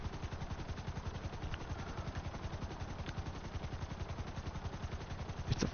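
A slow four-seat attack helicopter in GTA Online fires a steady, rapid stream of weapon shots over its droning engine, the pulses evenly spaced and continuous throughout.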